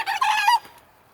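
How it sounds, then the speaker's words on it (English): A single rooster crows briefly nearby, a loud strained call that cuts off quickly, followed by quiet. "We run our chickens through here."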